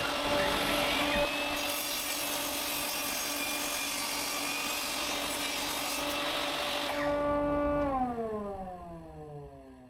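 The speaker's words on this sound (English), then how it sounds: "I smooth the top and bottom of the knife rack with a table saw and sand the other side smooth using the belt sander" A table saw smoothing the top and bottom of a wooden knife rack gives a loud, steady whining drone with a constant pitch, then the blade winds down and the pitch falls away near the end.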